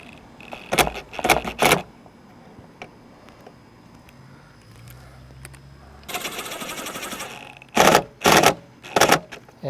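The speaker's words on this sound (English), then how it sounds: "And so we'll go ahead and tighten that the rest of the way down again with our bolts." A ratchet tightens bolts on the A-pillar light mount of a 2021-or-later Ford Bronco, fitted with a Rigid Industries ditch light. Short, loud bursts of rapid clicking come in separate runs with quiet pauses between them, close by.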